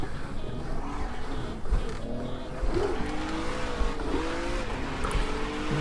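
A Ginetta G55 GT4 race car drives on a snowy Zolder circuit, its engine held steadily on the gas with a droning note that rises and shifts, heard from inside the car at moderate level without talk.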